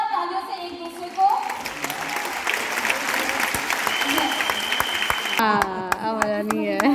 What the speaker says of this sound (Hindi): जोरदार तालियों से एक दूसरे को